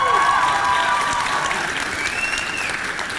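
Audience applause at a high school valedictory assembly swells loudly at first, then gradually thins and fades, with a few faint voices mixed in.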